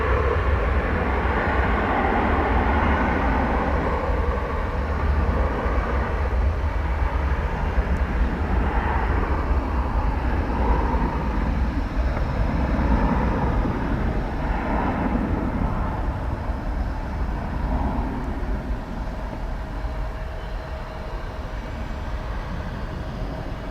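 A jet airliner at DFW Airport roars on the runway, a broad, steady engine rumble and hiss that carries on loudly throughout.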